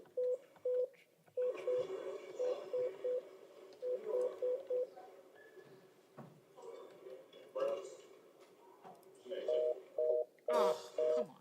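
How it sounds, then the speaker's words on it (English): Touch-tone telephone dialing in a courthouse bond court office, a string of short DTMF key beeps in quick bursts near the start and again near the end, with people talking faintly in between. "I'm gonna get Mr. Haas on the phone"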